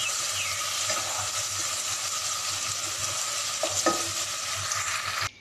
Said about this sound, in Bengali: এখন এই মিশ্রণটি ভালো করে কষিয়ে নেব।